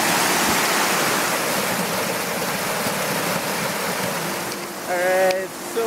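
Steady roar of a jungle waterfall on a trek, a broad rushing wash of water filling the scene throughout, with a brief human voice near the end.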